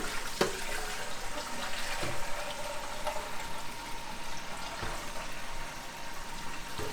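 Water pours and trickles into the tank of a Siemens coffee machine, a continuous splashing flow with a few clunks of handling, close and without talk.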